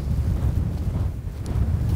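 Steady wind gusting across a frozen lake in Finland on a mild winter day about six degrees below freezing, a continuous low rumbling roar buffeting the microphone with no voices.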